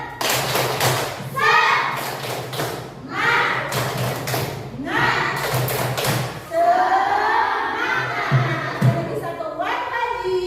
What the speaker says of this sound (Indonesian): Sebelum pembelajaran dimulai, coba tepuk semangat.